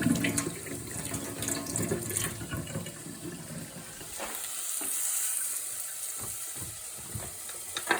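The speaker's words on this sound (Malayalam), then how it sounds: "ഇനി 2 ടൊമാറ്റോ വേണം, ഒന്ന് കഴുകിയെടുക്കുവാണ് കേട്ടോ." Running tap water splashes over tomatoes being rinsed in a kitchen sink, a steady close stream with occasional clatter and handling noises, no talking.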